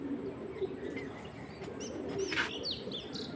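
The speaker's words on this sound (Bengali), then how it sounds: "দেখুন খুবই সুন্দর এক পেয়ার কবুতর" A pair of black racer pigeons make soft, low cooing calls nearby, with a few faint chirps over a quiet background hum.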